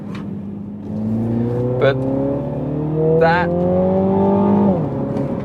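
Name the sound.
Mini Clubman JCW engine revving after paddle downshift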